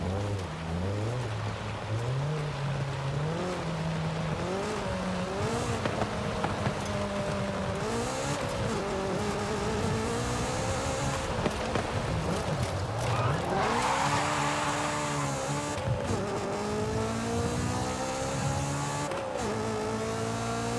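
Stock Honda S2000 four-cylinder engine in Forza Horizon 5, revving hard through repeated rising gear pulls with brief drops at each shift, loud and continuous over the whole stretch.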